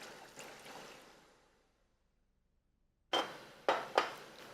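Water splashes from a pot into a cooking pan of lentils: a soft pouring wash at first, then silence, then a few sharp splashes in quick succession close by.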